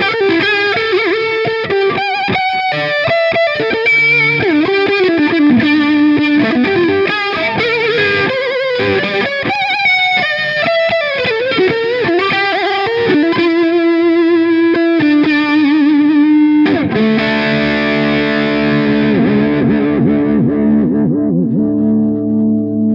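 An electric guitar fitted with a Graph Tech TUSQ nut, played through distortion and effects with heavy vibrato-arm bends, a wavering lead line ending on sustained chords that fade out, loud and alone.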